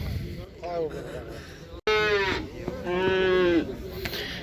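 Cattle low nearby at a livestock market in Uzynagash, Almaty region, Kazakhstan: a short moo, then a louder, long drawn-out one, over a faint murmur of background activity.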